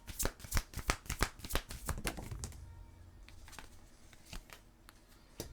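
Oracle cards from an Amélie Fiole deck being shuffled by hand: a quick run of crisp riffling snaps for about two seconds, then sparser soft card flicks and taps, close and fairly quiet.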